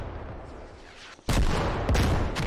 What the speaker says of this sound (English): A rocket lands inside the compound.